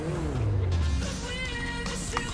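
The Vysser Neo sports car in GTA 5 Online fires up: a falling whine leads into a steady, loud engine rumble that holds on close, with no talk over it.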